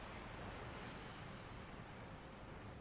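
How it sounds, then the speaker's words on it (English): A roaring waterfall in Sekiro: Shadows Die Twice, a steady, unbroken wash of broadband rushing noise that stays constant throughout, heard alone without any voices. "The noise of the roaring waterfall is deafening."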